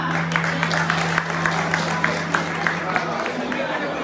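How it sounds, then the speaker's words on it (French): An audience at a Mali national day pageant in Belgium applauds a candidate with steady, moderately distant clapping, while a low hum runs underneath and then fades near the end. "Vous pouvez l'applaudir plus fort que ça."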